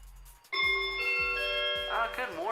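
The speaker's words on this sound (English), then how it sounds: "So that bell right there" A bright bell rings out in a music track, one clear struck tone that sustains and rings under a beat, with a voice briefly overlapping toward the end.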